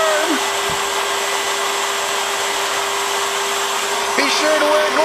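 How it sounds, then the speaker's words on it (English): A shop vac runs steadily throughout with a loud, constant whine, used to press against weather stripping on a vehicle, with a brief clunk near the start. "Turn on the vacuum cleaner. I used a shop vac"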